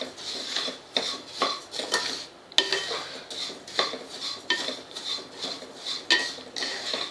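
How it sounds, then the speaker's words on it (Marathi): Coriander and cumin seeds being dry roasted and stirred in a pan, with steady scraping and rattling of a spoon against the metal in a repeating rhythm, close and moderately loud, no talking. "छान असे सतत हलवत आपण हे 4 मिनटं भाजून घेऊया."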